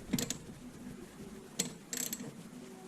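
A ratchet wrench backing out 10 mm bolts from the box brackets on a 2006 Subaru Forester 2.5X, giving a few quick clicking ratchet strokes, close and fairly quiet.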